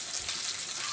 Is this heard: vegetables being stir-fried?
yes